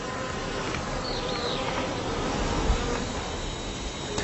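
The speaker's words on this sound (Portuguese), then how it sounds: "As abelhas laranja logo saem da colmeia." Honeybees buzz continuously around a hive as marked bees leave for an artificial feeder, a dense, steady drone of many wings with occasional individual bees passing closer.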